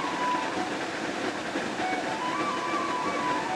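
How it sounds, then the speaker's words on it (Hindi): A waterfall roars in the background of an outdoor meditation and self-healing breathing session, a steady, even rush of falling water that holds constant throughout with no voices. "मेरे पीछे जो झरने की आवाज़ आ रही है"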